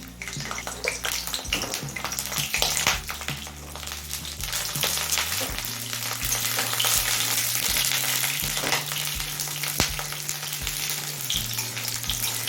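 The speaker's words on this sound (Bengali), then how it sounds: "এবার এই তেলে ফুলকপিটা ভেজে নেব" Cauliflower frying in mustard oil in a wok produces a loud, continuous close sizzle and crackle, with some clattering and stirring mixed in throughout.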